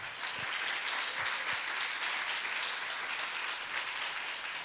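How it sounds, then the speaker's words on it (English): A crowd applauding steadily throughout, a dense wash of clapping hands with no speech over it. "round of applause for the Cathedral"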